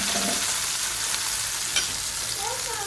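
Prepared gravy hits hot oil tempered with cumin in a pan, a loud, dense sizzle right up close that holds steady throughout, with no talking.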